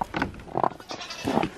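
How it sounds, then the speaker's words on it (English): Goats bleating in short repeated bursts at a farm pen, three or four calls close by and fairly loud with brief pauses between them. "You goats wanna come out?"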